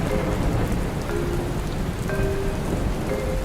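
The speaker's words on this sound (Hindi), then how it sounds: "तुम दोनों बारिश देखो" Steady, heavy rain pours down on surfaces with a dense, continuous hiss, while low rumbles of thunder roll underneath throughout; no voices are heard.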